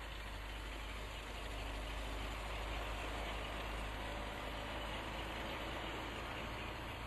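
Farm tractor working a field, a steady broadband engine drone at moderate distance that holds continuous and unchanging throughout, with no voices.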